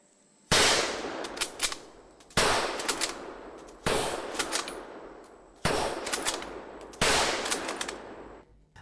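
A Springfield rifle loaded from a stripper clip fires five sharp, loud shots in quick succession. Each crack is followed by a short ringing decay and faint mechanical clicks of the bolt being worked.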